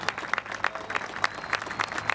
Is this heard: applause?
yes